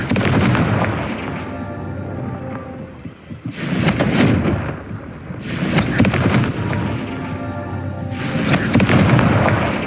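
Explosive blasts of the Confringo fire spell in the Hogwarts Legacy video game, three loud booming bursts spaced a few seconds apart over a rumbling battle din, with no talking.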